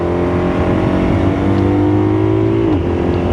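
A brand-new BMW R12S motorcycle engine pulls under open throttle, a loud, steady drone with rising harmonics that climb and then dip briefly as it shifts.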